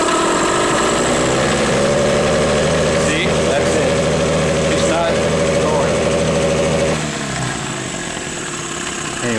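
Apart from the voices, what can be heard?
9.9 outboard boat motor revving in neutral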